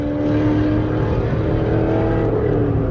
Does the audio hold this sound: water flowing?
no